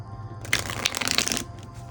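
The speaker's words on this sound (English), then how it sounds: "Still want to shuffle more though." Cards are shuffled briskly for about a second, a dense riffling flutter up close over a quiet room.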